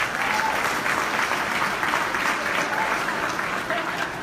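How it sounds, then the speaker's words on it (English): Steady applause from an audience at a Canadians of Pakistani Origin awards event in Ontario, a dense, even wash of clapping holding at constant loudness throughout with no pauses. "Again, a round of applause."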